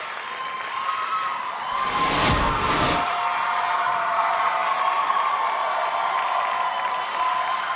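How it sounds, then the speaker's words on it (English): Crowd applause and cheering for a gymnast at a college gymnastics meet with Temple, North Carolina and Pitt, a steady, fairly loud wash of clapping and voices throughout, with a brief louder burst near the start. "See the applause and hear it for Alicia Patrikas"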